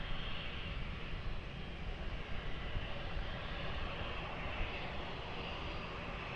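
At Lisbon Airport, an airplane is heard taking off as a steady, distant engine roar that holds at a fairly even level throughout, with no voices.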